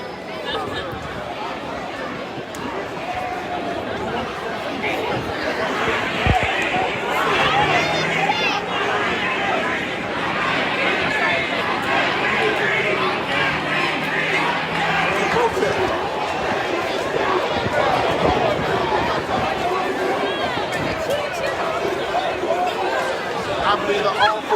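Protest crowd chatter, a dense continuous babble of many voices close around, steady and fairly loud throughout with occasional louder calls and scuffling rising out of the hubbub.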